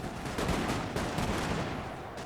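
Dense, continuous musket volleys and crackling gunfire in the Napoleonic battle video game Napoleon: Total War, loud and overlapping with no pauses, like a distant line battle roaring on.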